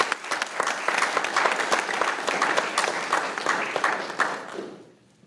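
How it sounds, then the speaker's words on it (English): A crowd at a military change of command ceremony applauds with steady, dense clapping for several seconds before it fades out at the end. "Let's give them another round of applause"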